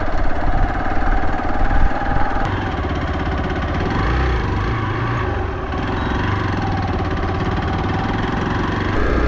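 An Xpulse 200 motorcycle engine runs steadily, a loud, close, throbbing mechanical drone with low rumble and faint knocking texture, holding nearly constant level throughout.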